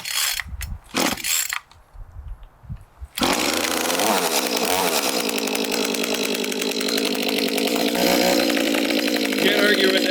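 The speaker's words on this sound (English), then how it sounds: "it's a great little saw. It'll start up probably right now." A small gas chainsaw with a primer bulb and rear choke fires up after a few pulls on the starter cord, then settles into a loud, steady, buzzing idle that runs on alone.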